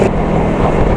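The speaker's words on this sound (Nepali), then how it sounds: "यसको साउन्ड चाहिँ बम्बाल छ है" An Insetto 125 scooter engine runs in a brief, steady, close-up hum with a low throbbing tone.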